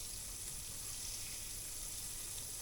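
Shrimp fry in a shallow layer of oil in a pan, giving a steady, even sizzle that runs without a break and without talk.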